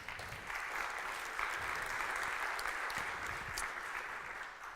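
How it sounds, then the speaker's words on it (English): Audience applause at a tech community event, a steady wash of clapping from a crowd, moderately loud and sustained for several seconds. "So maybe a round of applause for them."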